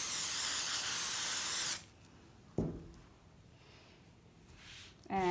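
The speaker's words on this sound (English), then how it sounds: "and give a nice spray." A spray bottle spritzes a fabric placemat and batting in one long, loud hiss, followed by a quiet pause, a soft bump, and a brief second spritz at the end.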